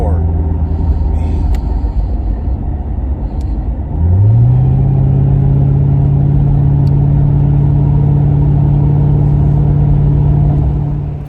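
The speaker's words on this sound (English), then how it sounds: "Give y'all a little baby cold starter when we got here." A 1994 Ford Mustang GT with a 5.0 V8 cranks over and fires on a cold start, then settles into a loud, steady low idle rumble at close range.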